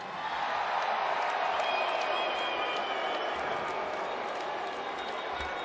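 At a football Hall of Fame ceremony, a large crowd applauds and cheers in a dense, sustained roar that holds steady throughout, with a voice briefly audible over it.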